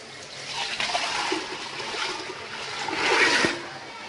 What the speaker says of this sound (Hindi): 6-7 घंटे भिगे हुए काले चनों को पानी समेत प्रेशर में डाल दें।